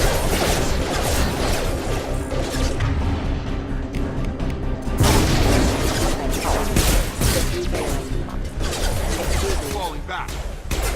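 Mass Effect 2 combat with steady gunfire, crashing impacts and thuds, loud and continuous throughout, a heavier burst around the five-second mark, with voices mixed into the fray.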